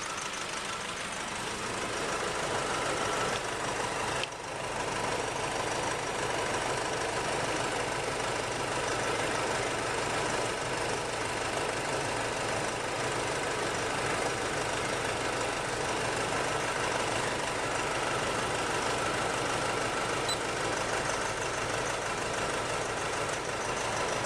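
A 2008 Nissan Navara D40 engine idles with a misfire, giving a steady, faint mechanical drone with some uneven knocking running throughout and no voices.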